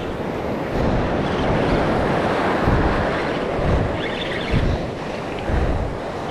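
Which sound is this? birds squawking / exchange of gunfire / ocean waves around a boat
ocean waves around a boat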